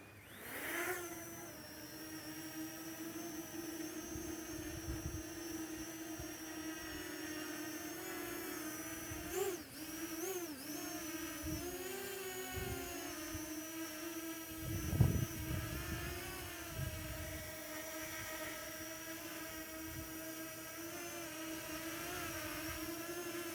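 Parrot ANAFI drone flying outdoors in wind, a steady close high-pitched propeller buzz with layered whining tones that dip and rise as it maneuvers, with wind rumble and occasional thumps underneath and no talking.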